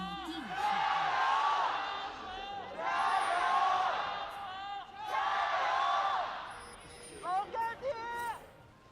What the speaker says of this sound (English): Love to hear the crowd in tune.